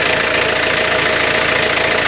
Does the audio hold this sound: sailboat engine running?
yes